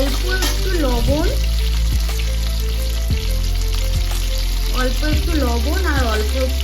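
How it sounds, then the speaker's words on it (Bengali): Cauliflower and potato pieces fry in oil in a pan with a loud, steady sizzle, broken by a few sharp scraping clinks from stirring; a voice hums or talks faintly in between. "আমি একটু নাড়াচাড়া করে নিয়েছি ফুলকপিটা আলুটা"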